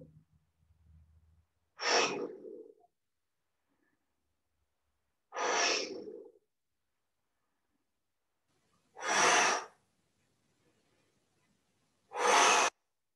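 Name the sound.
deep inhale during qigong breathing exercise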